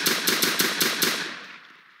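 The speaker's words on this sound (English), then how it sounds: "Whoa, we got gunshots up the wazoo here." Rapid burst of gunfire in a New York police simulator game, about eight quick sharp shots in even rhythm before fading out, loud and close with no talk.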